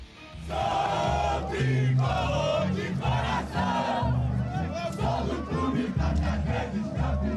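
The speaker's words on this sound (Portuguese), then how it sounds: "Foi assim que a torcida do Fluminense reagiu depois da derrota para o Manchester City na final do Mundial" Fluminense supporters chant in a loud, rhythmic crowd after losing the Club World Cup final to Manchester City, many voices singing together in pulsing phrases.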